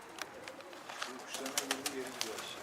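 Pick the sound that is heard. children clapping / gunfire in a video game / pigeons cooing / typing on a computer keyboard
pigeons cooing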